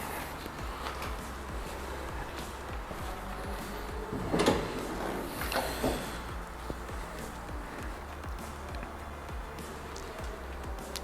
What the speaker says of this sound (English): you've got to open the bonnet.